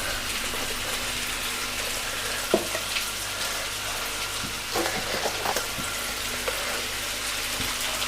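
Potato, green chilies and tomato sauté in hot oil for a potato rice dish, giving a constant close sizzle with occasional soft scrapes and taps from stirring; nobody speaks.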